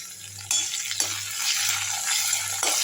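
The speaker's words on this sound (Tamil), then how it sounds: "ஒரு ரெண்டு நிமிஷம் நல்லா வதங்கட்டும்" Beetroot chutney ingredients with curry leaves sauté in a pan, a steady close sizzle punctuated by a few sharp spatula scrapes and clinks against the metal.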